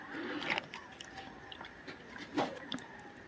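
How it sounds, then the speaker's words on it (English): Crispy potato chips being bitten and chewed: a few sparse, quiet crunches close by, with no talking. "You can hear the crunchiness of our potatoes."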